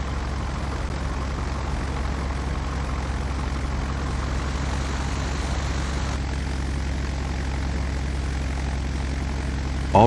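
Twin radial propeller engines of a Douglas DC-3 in Flight Simulator X drone at a steady idle throughout, loud and close with a deep constant rumble and no talk.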